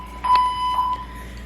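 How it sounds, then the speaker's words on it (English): A fire alarm sounds in a gym, giving a couple of short, loud electronic beeps at a steady pitch. "Fire alarm's going off"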